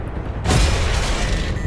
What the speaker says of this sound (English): he fires at me. Boom. I am gone.